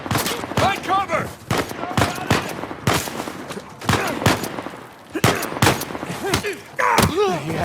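Sniper shots and gunfire in Uncharted 4, a video game: a dense fusillade of loud, sharp cracks and thuds at irregular intervals, mixed with shouting voices throughout.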